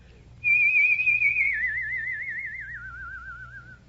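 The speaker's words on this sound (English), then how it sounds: "I discovered that I could make a whistle tone" A single person whistles one sustained, bright tone that starts abruptly, then wavers into a rapid vibrato and slowly drops in pitch, clear and close against a quiet background.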